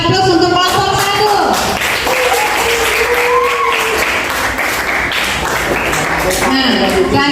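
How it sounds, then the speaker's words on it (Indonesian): A classroom group gives lively, continuous clapping for the first group of presenters, while voices and laughter mix over the applause throughout. "Kita kasih aplaus untuk kelompok 1"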